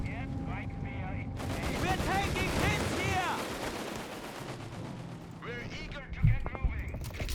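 Battle sounds from the video game Company of Heroes 3: bursts of machine-gun fire and heavy impacts as anti-tank rounds hit a Panther tank, with a dense crackling barrage and a low thump near the end, under a commentator's voice.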